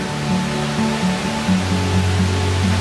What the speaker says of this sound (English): We can already hear the waterfall.